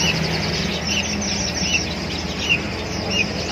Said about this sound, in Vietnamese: Con chim manh manh.